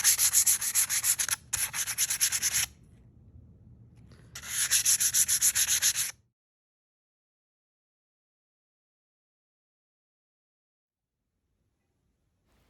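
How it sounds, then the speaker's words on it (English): Sandpaper of 220 grit rubbed by hand along the edges and seams of a wooden farmhouse dining table: two bursts of close, rasping strokes with a brief quieter pass between, then silence for the second half. "We used 220 grit sandpaper and went along the outside seams and edges."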